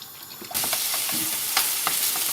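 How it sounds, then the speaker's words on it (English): Lamb steaks frying in a couple of tablespoons of oil in a pan over medium heat; a steady sizzle starts abruptly and carries on loud and close, with a few scraping stirs. "So now we'll cook off these lamb steaks. So a couple of tablespoons of oil in a pan on medium heat."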